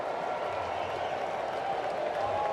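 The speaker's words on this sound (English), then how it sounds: "Solid crowd here at Nationals Park this afternoon." Large crowd at Nationals Park during an afternoon MLB baseball game between the Diamondbacks and Nationals, a steady broad wash of applause and crowd noise filling the stadium throughout, with no pauses.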